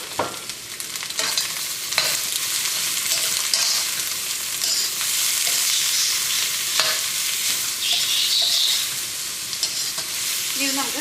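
Onions, crushed ginger, garlic and green chili frying in hot oil for a Kozhikode chicken biryani, with a loud constant sizzle broken by intermittent stirring scrapes, close and continuous.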